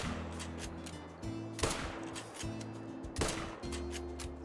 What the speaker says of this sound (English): Oh my gosh, I can't believe we actually made that shot.